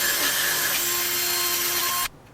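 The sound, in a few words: power drill drilling a hole in an Xbox 360 controller shell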